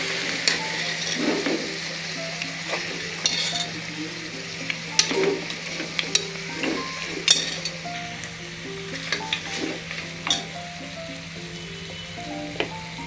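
Precooked mutton trotters for paya soup being stirred in a pan, with a steady sizzle, repeated scraping and knocking of the spoon against the pan, and a low hum underneath, close and fairly loud.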